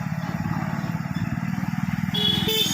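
A motorcycle engine chugs in a steady rapid pulse while being ridden slowly through a market during a training ride, with a shift in tone near the end as gears change and a brief higher whine.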